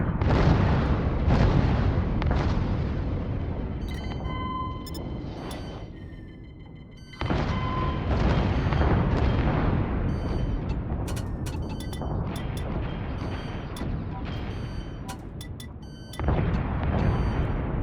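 Space combat in the game Infinity: Battlescape, with near-constant roaring weapons fire and explosive rumbles near a cruiser, dense and loud throughout with a few sharp breaks and faint electronic beeps, no voices.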